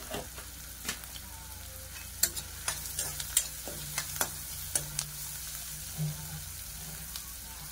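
Ginger garlic paste fries in a pan for kaju butter masala curry, a low steady sizzle broken by repeated clinks and scrapes of a spoon stirring, close and fairly quiet.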